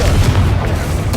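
Confringo explosive spell in Hogwarts Legacy, a dense heavy booming rumble with a few sharp bursts, loud and continuous across the short moment.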